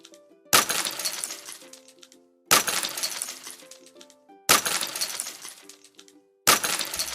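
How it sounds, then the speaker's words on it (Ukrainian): Four sharp crashes of icicles falling from a roof and shattering, evenly spaced about two seconds apart, each followed by a tinkling scatter of fragments fading out. "Бах, бурулька з даху впала."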